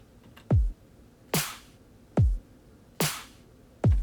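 Electronic dubstep drum beat with a deep booming kick alternating with a bright layered snare and snap, five loud evenly spaced hits in a slow steady pattern, alone.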